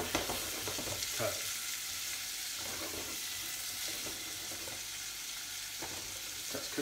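Onion, carrot and celery sweating in a pot with a little salt, a steady soft sizzle with faint stirring scrapes, close and unbroken.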